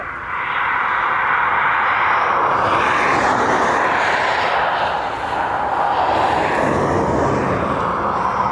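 An Aer Lingus jet airliner from Manchester at Dublin Airport gives a loud, steady broadband roar that holds for the whole stretch, with no voices over it.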